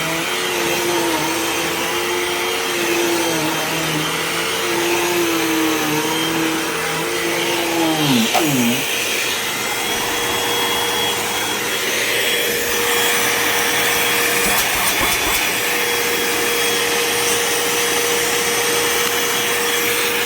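A Kirby vacuum cleaner runs steadily on its medium setting, a loud continuous motor whine with a brief pitch dip midway, close and alone with no talking.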